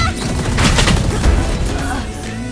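Grenade explosions and gunfire in the tactical shooter Valorant, a loud cluster of overlapping blasts and rapid shots with heavy low-end thumps, dense for most of the span.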